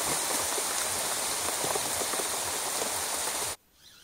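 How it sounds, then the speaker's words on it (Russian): Summer rain pours steadily outdoors on a river fishing trip, a dense, even hiss of drops hitting surfaces that cuts off abruptly near the end, leaving quiet background. "вот именно летом лупасят дождики"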